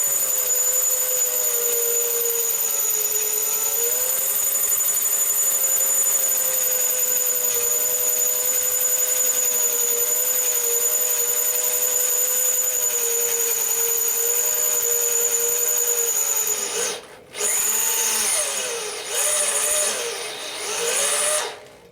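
A reamer bores into a stainless steel motorcycle part with a sustained, loud, high whine and grinding tone, steady for most of the run, then dipping and wavering as the tool eases off near the end.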